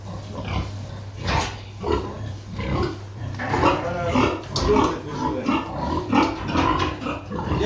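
Pig grunting in repeated short bursts close by, with a steady low hum underneath and shuffling noises throughout.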